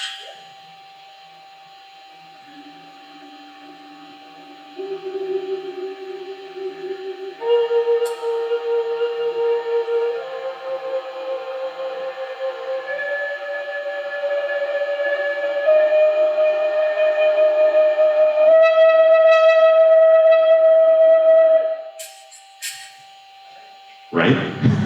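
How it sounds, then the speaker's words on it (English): A Mars rover's drill spindle actuator recorded on Mars: a thin whining motor tone climbs in distinct steps, growing gradually louder over about twenty seconds before cutting off abruptly, ending with a short burst of noise. "That sound is probably what we call the spindle actuator."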